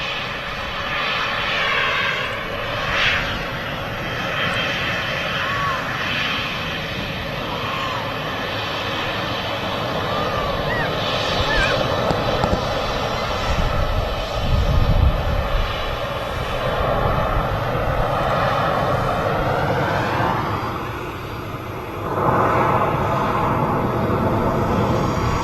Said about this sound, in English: there's another one on approach, KLM City Hopper. Another Embraer 190